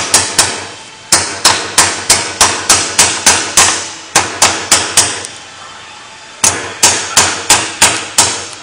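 A hammer drives wheel balance weights onto a tire rim in sharp, evenly spaced metallic strikes, delivered in three quick runs separated by brief pauses, loud and close.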